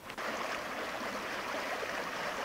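The Guadiamar river flowing again in autumn after a drought, a steady close rushing and gurgling of running water with no voices.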